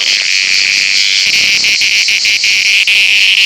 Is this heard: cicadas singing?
yes